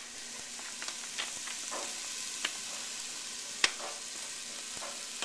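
Onions sizzling in a pan with crushed red pepper flakes, a steady crackling fry with scattered sharp pops and spits, close and alone without speech.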